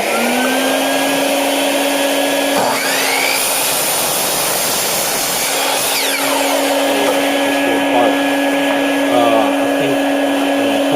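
A power saw runs loud and steady while cutting through reclaimed wood for a wooden phone stand, the blade passing through a glued dowel, with pitch shifts and brief dips as the cut progresses.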